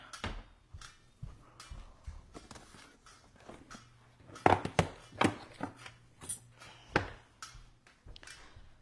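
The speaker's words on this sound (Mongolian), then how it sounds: "За тэгээд би энэ маха хэрчиж үзүүлье." A knife chops through ribeye steak on a wooden cutting board, a series of sharp, close thuds and taps at an uneven pace with short gaps between strokes and no talking.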